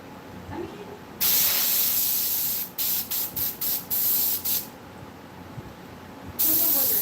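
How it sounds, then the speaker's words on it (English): Spray bottle misting onto hands in a shop: a long continuous hiss, then a run of six short rapid spritzes, then another sustained spray, close and loud. "Now I spray my hands until it's pink."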